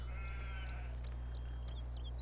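Sheep bleat in the farming game Farming Simulator 17, a few short quiet bleats in a row over a loud constant low hum.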